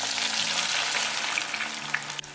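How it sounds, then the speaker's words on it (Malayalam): Sliced onions frying in hot sunflower oil for chicken biryani, a steady, dense crackling sizzle held close and loud throughout with no voices. "എണ്ണ നന്നായി ചൂടായി കഴിയുമ്പോൾ സവോള അതിലേക്ക് ചേർത്ത് ഫ്രൈ ചെയ്തെടുക്കുക"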